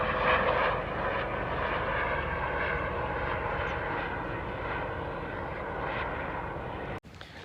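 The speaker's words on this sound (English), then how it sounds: "that's a Coast Guard helicopter, so somebody's in trouble" A Coast Guard helicopter flies overhead near rough water on a mussel-foraging shore, its steady engine and rotor roar loud and continuous for about seven seconds before cutting off abruptly.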